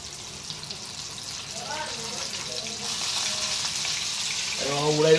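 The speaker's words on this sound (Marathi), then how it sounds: "मच्छीसारखंच आहे म्हणजे डीप फ्राय करून घ्यायचं." Marinated chicken 65 pieces deep frying in hot oil, a steady close sizzle and bubbling throughout that swells slightly toward the end, with a voice talking over it.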